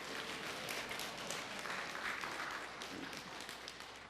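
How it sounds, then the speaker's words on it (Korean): A church congregation claps together to greet the new year, a steady wash of applause from a large room that holds constant before easing at the end. "옆 사람에게 한번 박수 한번 쳐주세요"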